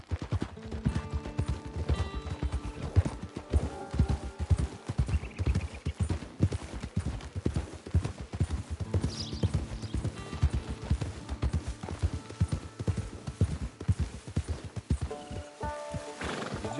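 Horse hooves clip-clop steadily in the Red Dead Redemption 2 video game, a continuous ride at moderate volume with occasional snorts and a neigh, and faint game sounds in the background.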